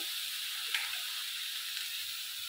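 Drumstick flowers and potato frying together in a pan, a soft, even hiss of sizzling oil held steady with one brief crackle near the start, no talking.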